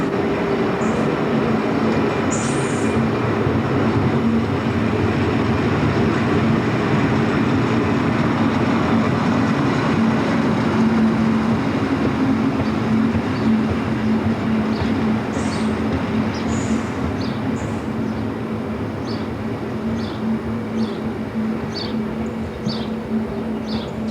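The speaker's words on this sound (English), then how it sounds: "The locomotive is seen gliding through the station before heading to the locomotive stabling point at Aulnoye" An SNCF BB12000 electric locomotive glides through a station, a loud, continuous rumble of wheels on rail with metallic clicks and brief squeals near the end, steady throughout and heard without voices.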